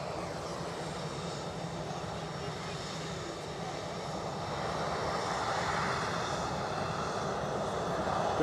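An airliner comes in to land at Edinburgh Airport, its engines a steady broadband roar that swells slightly louder toward the end, with no clear talk over it.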